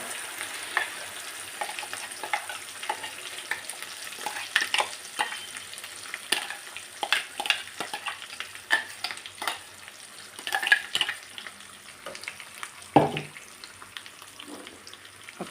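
Brinjal and coriander chutney with garlic, curry leaves, turmeric and oil being stirred in a hot pan gives a low steady sizzle broken by irregular scraping and clacking from the spoon, close by with no voices.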